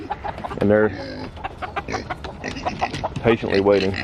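Big chickens and silkie chickens cluck in short bursts around a farmyard pig at morning feeding time, close by and intermittent, mixed under steady talk.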